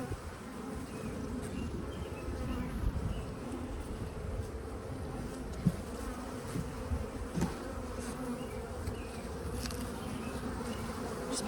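Honeybees hum steadily around a backyard beehive, a dense, constant buzz of many insects with occasional individual bees passing closer, no voices over it.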